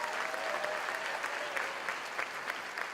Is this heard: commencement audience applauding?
yes